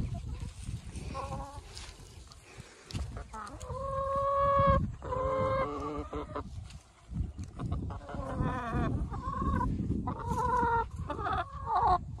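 Chickens clucking in a spring garden behind a wire fence fitted with a polypipe and plastic-netting extension, repeated harmonic clucks and calls close by and fairly loud, with some background rustle throughout.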